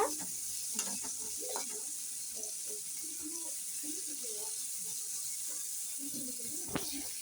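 Ingredients for tomato rice fry in a pan while being stirred, giving a soft continuous sizzle with scattered scraping and clinking of the spoon against the pan, fairly quiet and close.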